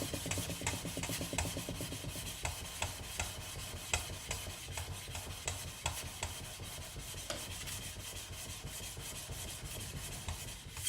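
A steel camp knife blade is hand-polished with WD-40 lubricant, giving close, steady rhythmic rubbing and rasping strokes, many repeated back-and-forth passes with no talk.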